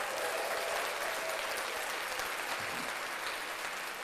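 Steady, continuous applause from a crowd fills the whole stretch, a dense wash of many hands clapping at constant, moderately loud level with no pauses.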